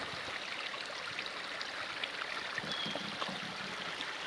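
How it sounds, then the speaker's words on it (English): Water flows steadily in a stream along a mountain hiking trail toward Grotto Falls, a constant rushing wash close by with no talking. "Sometimes the water just flows wherever it wants to."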